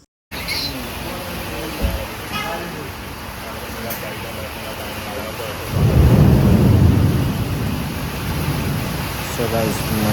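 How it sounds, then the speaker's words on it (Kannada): Heavy rain pours steadily near Manipal in Udupi, with a deep rumble of thunder swelling midway and traffic faintly passing; a voice talks over the downpour. "ಸಿಕ್ಕಾಪಟ್ಟೆ ಮಳೆ ಹೊಡಿತು ಗೈಸ್"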